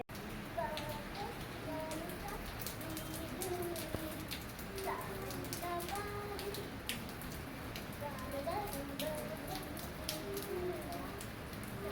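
Steady rain falling as a dense, even patter, with birds cooing faintly in the background and someone speaking over it.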